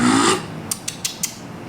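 A saw blade rasps in a few quick scraping strokes at close range, four short bursts after a brief stretch of broader noise, with no talk over them.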